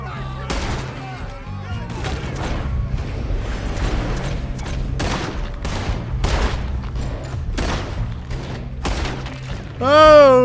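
A shootout in Red Dead Redemption 2 brings a string of loud, sharp gunshots over a constant rumbling bed. The shots crack out every half second or so, voices shout among them, and a heavy swelling boom hits at the end.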